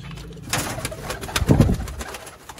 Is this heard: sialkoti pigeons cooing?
yes